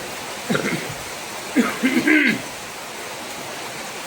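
Morning rain falls in a steady, soft hiss that runs through the whole stretch, with a few brief human vocal sounds rising over it in the first half.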